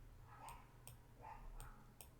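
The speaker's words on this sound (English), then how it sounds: "you're gonna have to forgive me for having the windows open for the dogs barking." Dogs bark outside, heard faintly through open windows: a few short, distant barks falling in two pairs with quiet between them.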